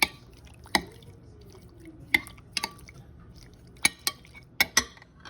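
Seasoned scallops tossed in a bowl for rasta pasta, giving a handful of sharp, separate clinks and wet knocks spaced a second or so apart, close and fairly quiet against a still background.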